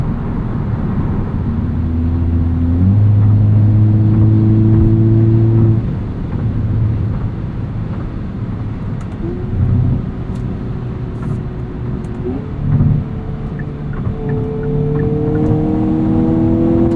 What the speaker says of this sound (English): road noise from these Pirellis isn't too loud